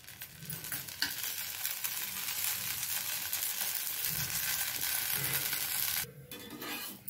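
Tiny coin-sized dosas fry in oil on a pan, giving a continuous soft hiss with low occasional stirring thumps, fairly quiet, that drops away briefly near the end before resuming.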